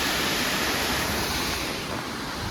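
Steady broadband roar of the Chikmagalur waterfall heard up close, a continuous dense rush of falling water with no pauses, loud and unbroken throughout.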